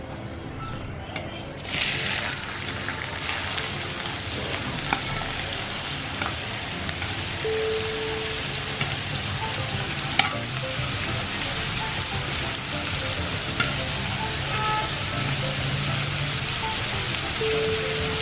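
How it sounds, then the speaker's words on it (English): Steady crackling sizzle of onions frying in hot groundnut oil, continuous and close, with a few faint clinks and no voices. "we'll start with frying the onions"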